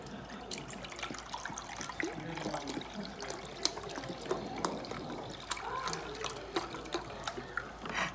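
Vegetable broth poured into a measuring cup in a home kitchen, a soft, steady trickling and splashing that stays faint and close throughout.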